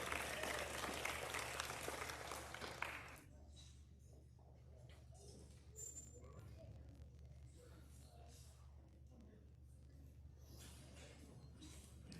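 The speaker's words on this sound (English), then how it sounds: "Go ahead and give these kids a good round of applause" Audience applause at a youth livestock show: a loud burst of clapping from a crowd for about three seconds, then fading into quieter scattered claps and room noise.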